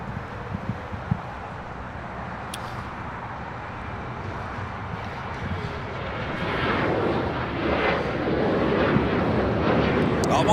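A Boeing 747-8 takes off from runway 25 left at LAX, its engine roar building from a distant rumble to a louder broad rush over about ten seconds, with faint talk early on.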